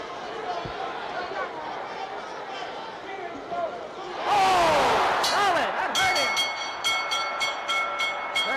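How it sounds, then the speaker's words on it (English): A boxing round bell clangs repeatedly at the close of a round in the Muhammad Ali versus Joe Frazier rematch, ringing loud and metallic over roaring crowd noise and chatter. "There's the bell"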